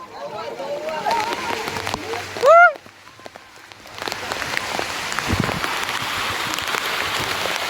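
Heavy monsoon rain falls on a road in the Girnar hills at Junagadh, a steady hiss that swells louder partway through, with brief voices and a short high call rising over it.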